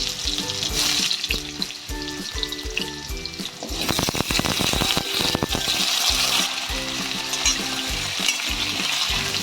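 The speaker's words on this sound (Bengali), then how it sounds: "তাতে ডুমু করে আলু কাটা আছে, সেটা ভেজে নেব।" Diced potatoes frying in a little oil in a kadai, a loud, continuous close sizzle with bursts of crackling and stirring scrapes, no voices.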